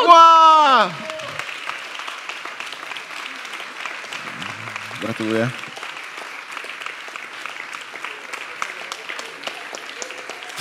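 Audience applause at the EFEKT 2021 awards gala in Stary Maneż, Gdańsk: sustained, even clapping from a large hall, opening under a brief spoken word and continuing steadily with another short voice partway through.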